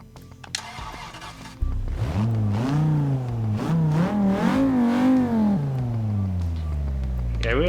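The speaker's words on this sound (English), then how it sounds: "Yeah, I really like the sound of the inline 5." A 1983 Audi Sport Quattro's inline-five engine in Forza Motorsport 6 fires up after a quiet start, then revs repeatedly in rising and falling sweeps, loud and close.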